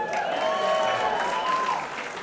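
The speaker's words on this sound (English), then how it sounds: "One more round of applause for Paul the Black" An audience at a live stand-up comedy semi-final applauds a comedian leaving the stage. The steady wash of clapping mixes with sustained tonal cheering or a musical sting and holds level before easing slightly near the end.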